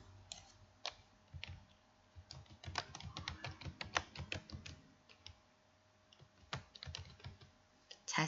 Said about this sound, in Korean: 시 내용 첫 번째 줄 문구를 입력을 해주시고요.